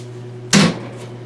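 A kitchen cupboard in a winter kitchen is pulled open to reach the propane, giving a single sharp knock-like thud over a steady low hum.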